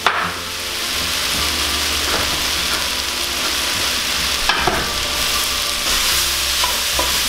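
Vegetables and potato chunks brown in a soup pan, a continuous dense frying sizzle with scraping stirs and a few light knocks against the pan, no talk.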